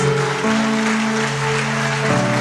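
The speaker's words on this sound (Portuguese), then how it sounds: "Uma forte salva de palmas para Jesus" A church congregation claps together in a steady, dense burst of applause, loud and continuous throughout, with a sustained musical tone underneath.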